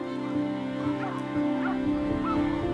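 Hunting dogs barking and yelping while flushing wild boars from cover during a Spanish driven hunt, several dogs baying in the distance over a steady humming background.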